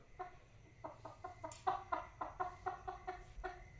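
Hen making a steady series of about a dozen short, evenly spaced clucks, close and moderately loud, with no talk.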